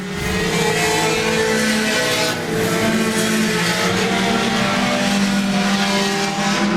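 Race cars roar down the back straightaway at a short-track night race, several engines blending into a loud, sustained droning wall of sound with no pauses.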